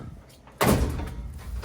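A drawer of a filing cabinet in a storage locker is yanked open with a sharp, loud metallic bang and rattle, followed by softer handling noises, after a brief quiet moment.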